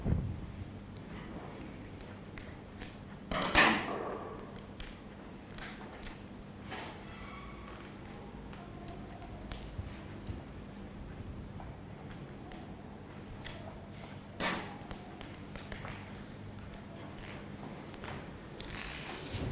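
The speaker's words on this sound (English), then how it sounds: "Now I'll take another piece of tape, stick it on top." Strips of tape are pulled off, torn and pressed down onto a surface, making sharp crackles and brief ripping bursts. Softer rustles and taps are scattered between them, close and fairly quiet.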